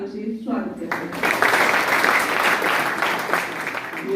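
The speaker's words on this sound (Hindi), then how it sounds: "आइए हम इन सभी प्रतिभागियों का जोरदार तालियों से स्वागत करते हैं।" Loud applause from a university event audience in Bhagwanpur, Vaishali, Bihar, welcoming participants; dense clapping swells after a brief voice at the start and holds steady throughout.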